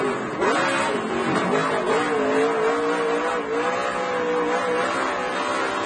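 A dirt race car slides in too hot toward the wall on a dirt track, its engine holding a loud, steady, droning roar with a slight wavering in pitch, close and continuous throughout.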